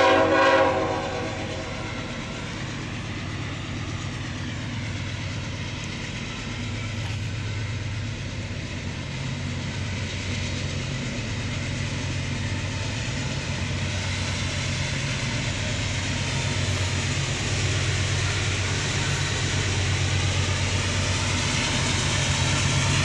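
A CSX freight train rolls past, sounding its horn in long, sustained blasts over a steady rail rumble. The train is close and fairly loud throughout, and nobody speaks.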